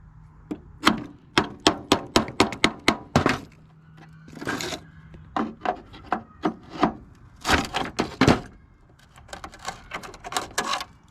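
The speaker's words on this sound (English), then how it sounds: "Might have to hit it with the adjustable hammer" Sharp metallic hammer blows on a bolt ring out in quick irregular bursts during a Ford truck 6.7 Powerstroke engine swap, some rapid runs of strikes separated by short pauses, loud and close.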